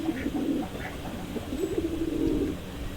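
Pigeons being paired give low, soft cooing in a few drawn-out phrases over a steady background hum.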